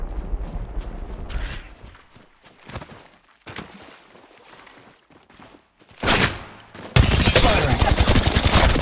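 Gunfire in the mobile battle royale game Apex Legends Mobile comes in several bursts of shots, with a sustained loud barrage near the end and quieter mechanical handling in between.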